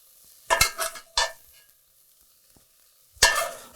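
Browned sausage stirred in a cooking pot, giving a few short scraping strokes with a spoon and a light sizzle, then a pause before one more scrape.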